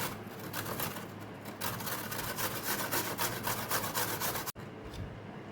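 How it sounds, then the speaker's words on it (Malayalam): A peeled apple is grated by hand, with quick, repeated rasping strokes close to the listener, a brief pause near the end, then a few softer scrapes. "ആപ്പിൾ ഇതുപോലെ ഗ്രേറ്റ് ചെയ്തെടുത്തിട്ടുണ്ട്."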